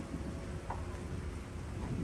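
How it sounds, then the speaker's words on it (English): Steady rain falls outdoors while low thunder rumbles underneath, a continuous broadband hiss with no voices. "And it is raining here."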